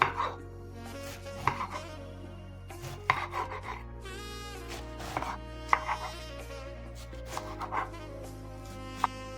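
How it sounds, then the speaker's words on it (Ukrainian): A knife chops through half a head of iceberg lettuce on a board, making a run of crisp, crunchy cuts with sharp board knocks, close and clear, against faint background hum and no speech. "Беремо пів головки салату айсберг і розрізаємо його"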